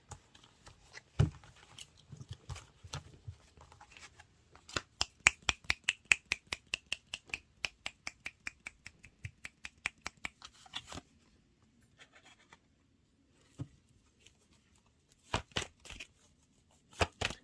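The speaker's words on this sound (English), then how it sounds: "I'm going to shuffle for a little bit" Tarot cards shuffled by hand close to the microphone: bursts of quick, crisp clicks in a rapid riffling rhythm, with short pauses between rounds, in an otherwise quiet room.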